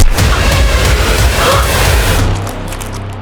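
A handgun goes off in a tense TV crime drama scene, a loud, sharp bang at the start followed by a booming, reverberant tail that fades away, with no voices.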